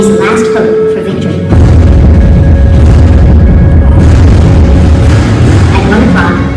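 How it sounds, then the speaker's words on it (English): Civil War cannon bombardment at Gettysburg, a dense, continuous low rumble of massed artillery fire that swells suddenly and rolls on heavily beneath a narrating voice. "At 1 o'clock, 150 Confederate cannon opened fire. Union guns thunder back."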